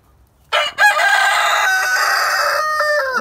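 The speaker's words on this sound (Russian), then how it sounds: "Птички поют, куры волнуются, все хотят есть." A rooster lets out one loud, close, drawn-out crow at a farm where chickens are waiting to be fed, after a quiet start.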